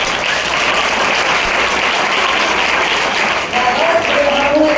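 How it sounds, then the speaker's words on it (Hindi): Audience clapping at a class 12 farewell party at a Model School, heard as a broad, steady wash of applause with a faint voice or tone emerging near the end. "ऐसे बजाओ ताली की कलाकारों को जोश आ जाए।"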